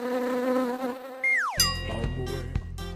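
Buzzing insects, bees set loose from a container in a home, with a sustained harmonic drone in the first half, then a sudden rising whine and a clattering, noisy burst as they escape.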